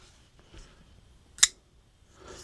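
A Kizer back-flipper pocket knife snaps its blade open and locks with one sharp, close click in an otherwise quiet moment.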